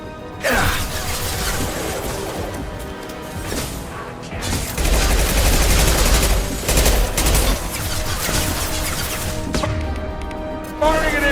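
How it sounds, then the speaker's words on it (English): Impact-shot gunfire in Mass Effect 2, a sci-fi shooter, heard as loud, dense rapid shots and crashing impacts that run almost continuously over a layered battle soundscape with music, without any clear talking. "Firing an impact shot!"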